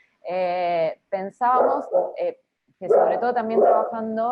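A dog barks and yelps in several bursts close to a microphone during an online conference talk, partly overlapping someone speaking in Spanish.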